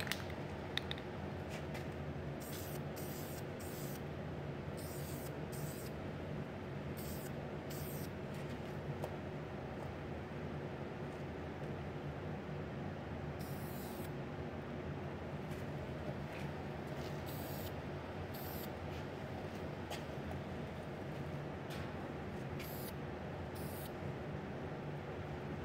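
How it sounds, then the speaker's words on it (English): Steady hiss of an aerosol can spraying a primer coat onto a hard body, with short intermittent bursts of spraying, close and continuous, no talking. "I'm going to try and spray this while the camera's sitting here"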